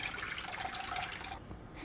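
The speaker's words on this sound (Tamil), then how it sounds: "வேறு ஒரு பாத்திரத்தில் அந்த கஞ்சி ஃபஸ்ட்டு நம்ம சேர்த்துக்கலாம்." Rice starch water (kanji) poured from one vessel into another, a steady close splashing stream lasting under two seconds that thins out near the end, with no talking.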